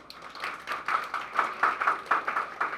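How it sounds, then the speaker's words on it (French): Audience at an OPC assembly gives applause, a moderate, somewhat distant patter of clapping with uneven rhythm that continues for a few seconds without talk. "Et nous demandons un gros applaudissement pour OPC"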